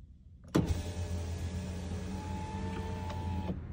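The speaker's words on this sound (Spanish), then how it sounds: "A ver, vamos a bajarle el vidrio." A car's power window being lowered, the electric motor starting with a click and whirring steadily for about three seconds before stopping with a thunk, close and clear with no talk.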